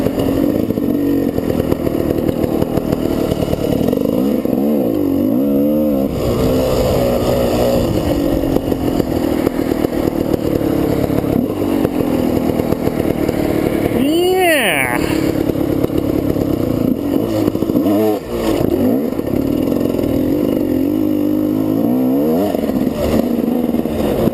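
A GasGas dirt bike rides through thick mud, its engine loud and close, rising and falling in repeated revving surges with clattering and scraping over a constant roar.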